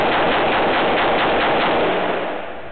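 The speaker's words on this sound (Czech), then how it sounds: "Tak se střílí rychle." Rapid gunfire rings out at a shooting range, a dense, continuous burst of shots close and loud that trails off slightly at the end, with no talk over it.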